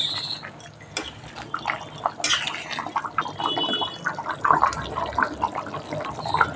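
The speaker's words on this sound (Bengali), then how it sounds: "কিছুক্ষণ রান্না হয়ে গেলেই মানে ঝোলটা একটু ফুটলেই রেডি হয়ে যাবে ডিম সোয়াবিন আলু দিয়ে ঝোল।" Egg, soybean and potato curry gravy simmering in a pot, with a steady close bubbling and soft popping texture and no voices.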